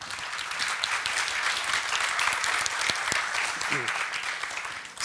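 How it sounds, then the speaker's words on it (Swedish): An audience at a metallic materials conference applauds as panel guests come up on stage, a steady, moderately loud burst of clapping from many hands lasting several seconds. "Välkomna upp och en applåd!"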